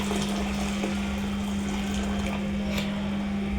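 A steady stream of water is poured into a sufuria pot while porridge (uji) is being made. The even, rushing wash of liquid carries on throughout over a faint constant hum, with no voices.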